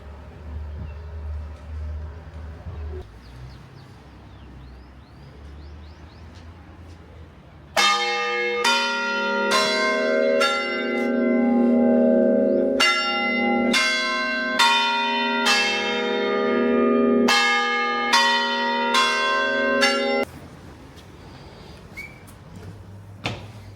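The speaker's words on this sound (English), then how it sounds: "I have to say, the bells did make me jump there." Church bells peal near a cathedral in Tenerife, a loud run of strikes that starts suddenly and goes on for about twelve seconds in an uneven rhythm, then stops, with quiet street ambience before and after.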